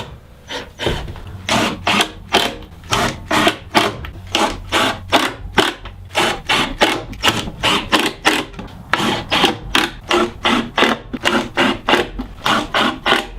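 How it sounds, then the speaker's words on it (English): A drill press with a plug cutter bores wooden plugs from reclaimed wood in a rapid series of short, rhythmic rasping bursts, repeated over a dozen seconds, close and fairly loud with no voices. "Now I'm using a plug cutter on my drill press to cut out a bunch of wooden plugs to plug the screw holes."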